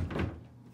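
A bedroom dresser drawer, holding sneakers and shoes, slides open or shut with a single short, close wooden thunk.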